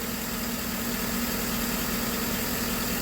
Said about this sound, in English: You can hear the engine change too.